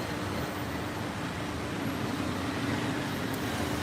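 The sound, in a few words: road traffic passing nearby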